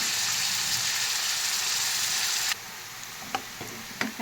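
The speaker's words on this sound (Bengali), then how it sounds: "আস্তে আস্তে পেঁয়াজটা ভাজা হচ্ছে।" Chopped onion frying slowly in oil in a pan, a steady broadband sizzle that shifts slightly partway through, with a few light clicks of stirring toward the end.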